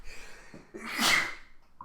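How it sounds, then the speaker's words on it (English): A single sharp sneeze after a short intake of breath, close and loud, fading quickly into quiet. "I can't stop sneezing now."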